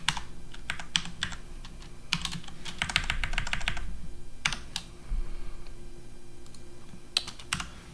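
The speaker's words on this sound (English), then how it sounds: "it might just be easier to type it" Keys clatter on a computer keyboard as a short math expression is typed, close and crisp bursts of rapid clicks separated by brief pauses, with no talking.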